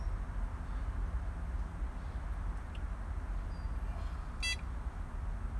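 A ProLogic SMX bite alarm for carp fishing gives one short, sharp electronic beep near the end after its memory button is pressed, heard over a steady outdoor rumble.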